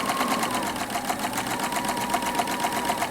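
A sewing machine runs steadily while narrow hemming fabric, a continuous close, even mechanical whir with a fast regular stitching pulse and no talking.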